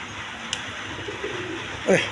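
A sitting pigeon on a clutch of eggs gives a brief low coo near the end, faint against a soft background hiss with a sharp click earlier on.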